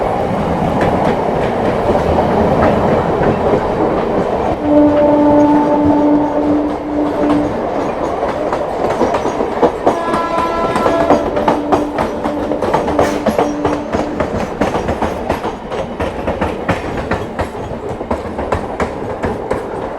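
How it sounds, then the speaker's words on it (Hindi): A local train runs alongside on a parallel track, its steady clickety-clack and rolling rumble filling the whole stretch beside a moving West Bengal Sampark Kranti express, with brief horn-like tones sounding midway. "लोकल आती हुई"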